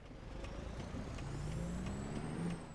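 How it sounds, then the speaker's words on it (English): A truck's engine rumbles steadily nearby with a low droning Jake brake growl and a rising whine, continuous throughout. "You can hear a little bit of the Jake brake there."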